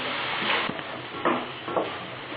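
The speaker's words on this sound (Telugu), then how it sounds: "ఇది బాగా వేగాలి, అంతవరకు మనం మూత పెట్టుకుందాం." Potatoes frying in a covered pan for aloo fry give a soft, steady sizzle with a few brief louder crackles, fairly quiet and close.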